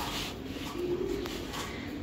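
A green-necked pigeon coos softly at a pigeon seller's stall, a low brief murmuring call amid faint ambient noise.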